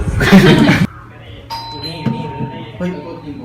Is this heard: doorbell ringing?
yes